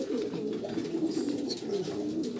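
A racing pigeon arriving back at its loft gives low, repeated coos in a steady rolling rhythm, heard close up with no speech.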